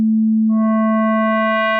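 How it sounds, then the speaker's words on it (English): A steady synthesized sine-wave tone, joined about halfway by bright upper overtones from frequency modulation by a sine-wave modulator that make it buzzier and richer, held evenly at constant loudness. "the FM modulator is a sine wave and we're going to be modulating a sine wave"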